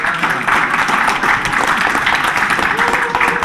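Audience applause fills a town hall event in Seattle, a dense, steady wash of many hands clapping close by, continuing throughout with little change.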